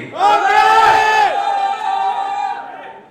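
Crowd at a cricket league launch event letting out a loud collective roar, many voices yelling in unison, peaking early and then trailing into a sustained, thinning cheer.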